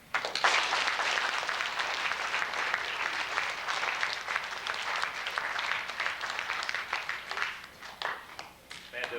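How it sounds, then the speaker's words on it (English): An audience at a Veterans Day program applauds for nine seconds, with dense clapping that stays loud throughout and thins slightly near the end. "You may clap."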